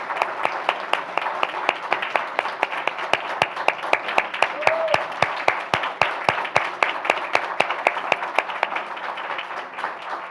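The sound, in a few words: audience applause for teachers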